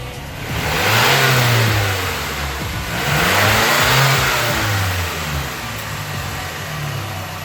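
A 2007 Mazdaspeed engine with 114K miles idles and is revved repeatedly, loud and close, the pitch rising and falling in several throttle blips over a steady exhaust drone.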